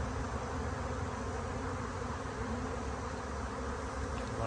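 Honeybees hum in a dense, continuous drone as they fan at a hive entrance while the queen settles inside, a loud, close, unbroken swarm sound with no voices.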